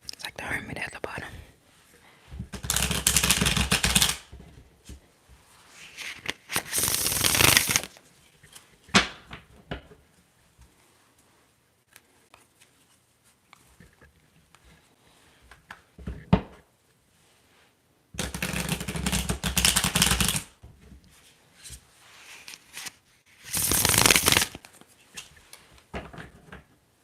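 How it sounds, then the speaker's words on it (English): Tarot cards being shuffled in several separate bursts, each a crisp, broadband riffling rush that lasts a few seconds, with soft quiet handling between them. "let's shuffle"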